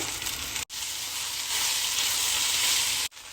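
Fried okra being stirred into a hot tempering in a pan gives a loud, steady broadband sizzle that continues with no speech, broken by two brief dropouts.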